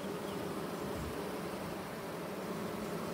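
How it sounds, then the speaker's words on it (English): Honey bees buzz inside a beehive in a steady, dense drone that holds at an even level throughout, close to the listener, with no voices. "all the bees in there, they're getting the honey"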